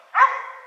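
A single short, sharp bark from a search-and-rescue dog in training outdoors, close and loud, trailing off quickly.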